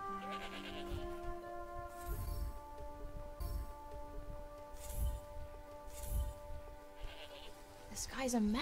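Sheep bleat in the video game Forspoken, several drawn-out calls at intervals over a soft background music bed.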